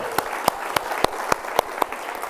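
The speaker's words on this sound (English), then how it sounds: "let's give Julie a big round of applause for her wonderful introduction" An audience at a showcase event claps for an introduction: distinct claps in a steady even beat, about three or four per second, fairly close and loud.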